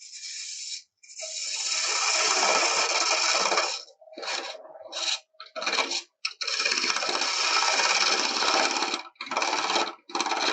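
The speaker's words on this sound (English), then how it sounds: "Got my spindle gouge to do that. I'm gonna turn down my lathe just a little bit." A spindle gouge cuts burl wood on a lathe turned down slightly, making loud close bursts of rough scraping and rasping that start and stop repeatedly with short gaps between passes.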